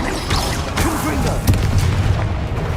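Confringo explosive spell blast in Hogwarts Legacy, punchy booming bursts amid a busy magical duel, with speech-like voices over the top.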